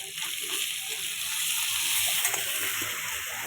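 Potato curry frying in a pan with spices and chilli powder gives off a steady, moderate hiss and soft crackle over medium heat, a close, even sizzle with no talk.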